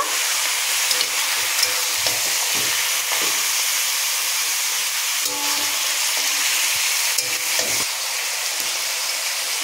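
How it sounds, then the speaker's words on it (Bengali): Mutton pieces frying with onions in a hot pan, a steady sizzle running throughout, broken by scraping and knocking as the meat is stirred at intervals, close and fairly loud with no talk. "এরপর পেঁয়াজের সাথে আমি ভালো করে মটনগুলোকে নাড়াচাড়া করে নেব।"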